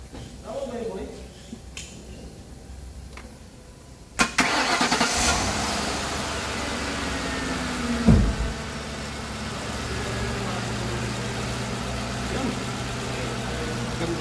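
A car engine, just fitted with new valve seals and valve cover work, cranks with a sharp burst and then settles into a steady low idle close by, with brief voices in the background.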